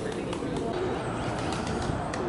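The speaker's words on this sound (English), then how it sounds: "More pigeon." Pigeons coo softly in San Juan, Puerto Rico, low murmuring calls repeating under steady outdoor background noise.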